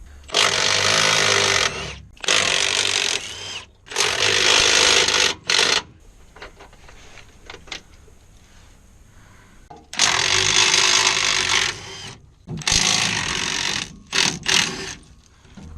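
A power tool works bolts loose on a Dodge Ram bumper. Loud, close bursts of buzzing mechanical whirring come in several runs of one to two seconds, with quieter rattling and clicking in the gaps.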